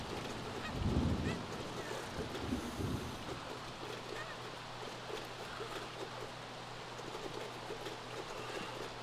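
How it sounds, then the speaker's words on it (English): Game birds in The Sims 3 honk like geese in two loud bursts near the start, then fade into a steady low hum and rushing ambience for the rest. "the birds are stuck in midair"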